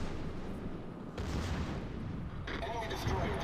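Secondary guns on a warship in World of Warships fire in a quick run of booming shots, loud and close, with game effects layered around them.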